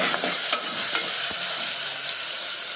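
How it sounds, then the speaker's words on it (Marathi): Tomato is stirred and sautéed in a hot mustard-seed, asafoetida and turmeric tempering for a bean usal: a continuous close sizzle broken by repeated spatula scrapes and taps, with no speech. "जरा परतून घेते."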